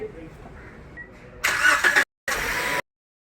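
A used Toyota Yaris cranks and fires up, a loud, close burst of starter and engine noise following quieter talk, cutting out briefly and then resuming for about half a second before stopping.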